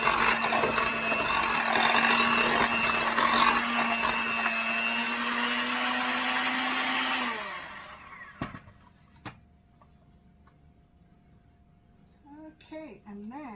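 An electric mixer whirs loudly through oatmeal chocolate chip cookie dough for about seven seconds with a steady motor hum, then winds down and stops, followed by a couple of knocks and faint handling sounds.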